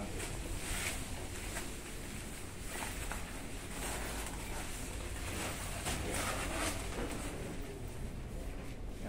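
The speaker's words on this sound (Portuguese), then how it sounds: "mas tá ventando." Wind blowing at a campsite, a steady loud rush with gusty buffeting on the microphone throughout, no talk.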